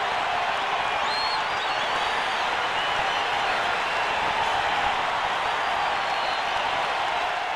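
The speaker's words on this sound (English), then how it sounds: "Listen to this crowd now." Virtual ballpark crowd in the baseball video game MLB 09 The Show, a dense, continuous roar of cheering and applause held at steady loudness throughout, with no voices standing out.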